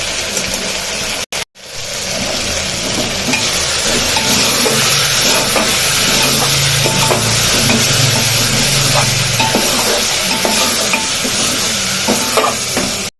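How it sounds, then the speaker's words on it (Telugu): Chopped ivy gourd (dondakaya) fries in a hot pan with salt and chili powder, a loud, continuous sizzle and hiss with steady scraping and clinking from a spoon stirring it, briefly cut off near the start. "ఇప్పుడు దొండకాయలు వేసుకొని ఒక ఐదు నిమిషాలు మగ్గిన తర్వాత సాల్ట్ కారం"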